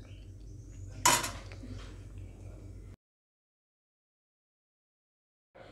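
Cooked Vidarbha-style dill dish with mung dal being transferred into a vessel, a sharp metal clink of a spoon against the pot followed by brief scraping, then silence before a faint sound at the very end.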